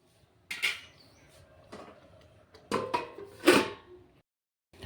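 A cooking pot lid lifted off during a Bengali fish curry, with light metallic clinks and scrapes of the lid and utensils in a quiet kitchen.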